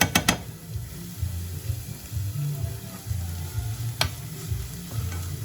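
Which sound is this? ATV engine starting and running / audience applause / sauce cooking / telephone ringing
sauce cooking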